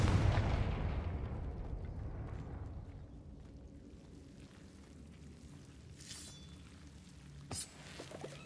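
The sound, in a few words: Confringo explosive spell in the video game Hogwarts Legacy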